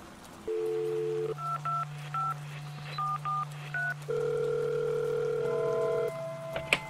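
A mobile phone is dialed: a steady dial tone hums under a quick series of short keypad beeps in uneven rhythm, followed by a longer tone, close and clear with no talking.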